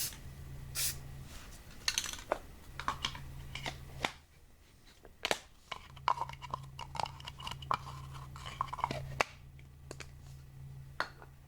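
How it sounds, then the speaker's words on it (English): Short hissing bursts of a spray paint can, mixed with small clicks and rattles over a low steady hum, quiet and close in an unventilated room. "Don't use spray paint in an unventilated area like this."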